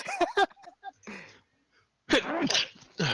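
A person sneezes once, loud and close, amid casual voices among friends during a tabletop role-playing session; chatter comes before and after the sharp burst.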